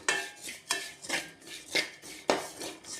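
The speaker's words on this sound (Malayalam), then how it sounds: "നമുക്കിതൊന്ന് ഇളക്കി കൊടുക്കാം" A metal utensil scrapes and clinks against a pan in repeated strokes, stirring a spice mix with chili powder, roughly every half second, close and clear with no talking.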